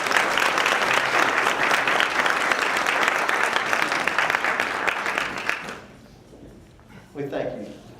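Loud, sustained applause from an audience honoring someone fills the room, broad steady clapping that stops abruptly, followed by quiet and a brief voice.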